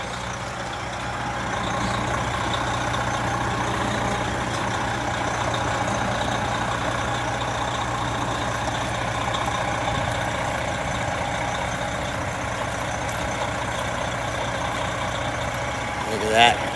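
A tractor-trailer truck runs at a steady low diesel rumble while backing through a 90-degree turn, with a constant engine drone throughout and a brief louder burst at the very end.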